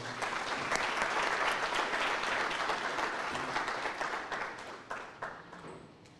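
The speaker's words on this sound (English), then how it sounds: "can you please give him a round of applause as he comes to the front?" Audience applause at the launch of a university student entrepreneurship programme, steady dense clapping from a large crowd that holds strong for several seconds, then thins and fades toward the end.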